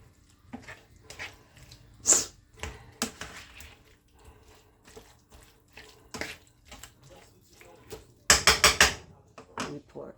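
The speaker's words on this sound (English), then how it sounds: "A little bit of that in there. Mix it around" Meat and seasoning are mixed with a splash of water in a dish, giving wet squishing, scraping and clinking of a utensil against the bowl in irregular bursts, with a louder clatter near the end.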